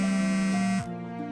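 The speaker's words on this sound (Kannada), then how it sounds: "ಯಾವುದೋ ಫೋನ್ ಬರ್ತಾ ಇದೆ" A mobile phone rings with an incoming call, a buzzy electronic tone that holds steady, then drops and shifts pitch partway through, close and clear with no talking.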